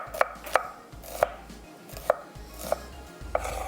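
Two medium-sized onions being chopped for a stew: six loud, crisp knife chops land at uneven intervals, each a sharp close thud against a low background rumble, with no voices.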